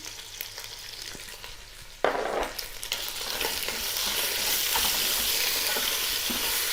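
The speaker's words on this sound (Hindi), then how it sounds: "दो से 3 मिनट लहसुन अदरक को भी फ्राई कर लेंगे" Garlic and ginger hit hot oil with a sudden loud sizzle that settles into continuous frying, with stirring sounds throughout.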